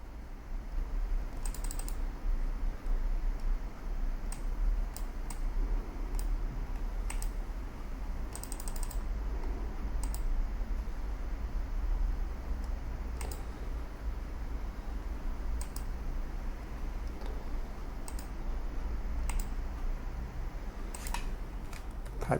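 Keys clatter steadily on a computer keyboard as an address is entered into a browser, with quick irregular taps and short bursts of faster typing over a low background hum, close and moderately loud with no talking.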